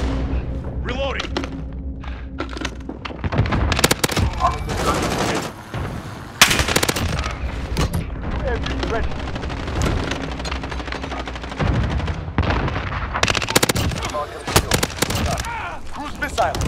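Dense automatic gunfire and thuds fill a Call of Duty Modern Warfare match with an Iso SMG, rapid bursts of shots and impacts mixed with shouted in-game voice callouts.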